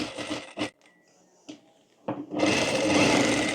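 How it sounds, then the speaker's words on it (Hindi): Sewing machine stitching a jumpsuit pocket: a few short whirring bursts of needle action separated by quiet pauses, then a longer continuous run of stitching close by. "तो ये देखिए यहाँ पर पहले इस तरह से हम सिलाई कर लेंगे।"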